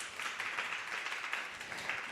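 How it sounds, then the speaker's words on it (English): A Krishna Katha gathering's audience applauds Yaśodā-kṛpā Prabhu with steady, continuous clapping, faint and somewhat distant, forming an even wash of many hands with no voices over it. "So let's thank Yaśodā-kṛpā Prabhu with a big round of applause"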